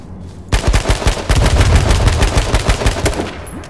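AK rifle fire in the video game H1Z1: loud, close, rapid automatic bursts of shots that crack in quick succession for several seconds after a brief quiet start.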